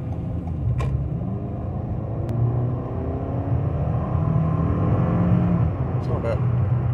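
A front-wheel-drive Toyota Camry accelerates from inside the cabin, its engine note climbing steadily in a continuous, moderately loud drone with road rumble underneath.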